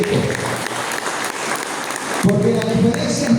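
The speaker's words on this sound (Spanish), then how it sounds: "¿Cuántos le dan un aplauso al Señor en este tiempo?" A church congregation breaks into loud, sustained applause, many hands clapping together in a dense wash, while voices call out and a low tone rises beneath it partway through.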